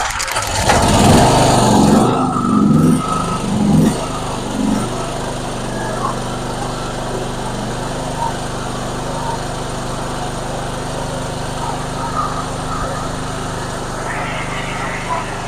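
A gasoline generator engine runs at a steady idle, a loud, buzzy, continuous drone close by, with a rougher surge in the first few seconds before settling into an even hum.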